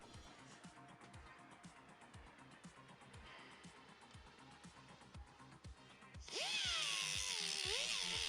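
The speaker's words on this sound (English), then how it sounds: "I sanded down to bare metal so I can ensure the best weld" A power tool sands a BMW E28 M535i hood hinge down to bare metal before welding. Soft rhythmic mechanical ticking comes first, then a loud, close grinding whine starts abruptly and holds steady to the end.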